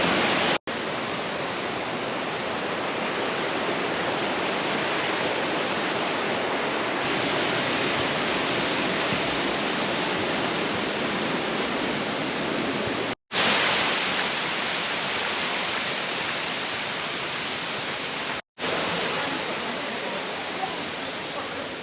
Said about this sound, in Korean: 물이 흘러가면서 이렇게 속도를 형성해서 떨어지고 있습니다. 양양 폭포입니다